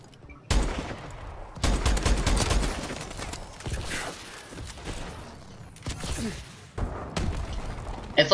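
Rapid automatic gunfire from Call of Duty: Advanced Warfare comes in several loud, dense bursts separated by short pauses, with thuds and impacts between them.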